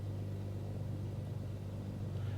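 Cirrus SR22 piston engine idling at 1000 RPM in Microsoft Flight Simulator, a low steady droning hum with a faint rhythmic throb, quiet and unbroken.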